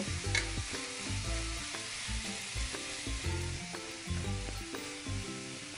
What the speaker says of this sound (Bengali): মাংসটাকে মাংস সেদ্ধর জল দিয়েই কষাতে থাকবো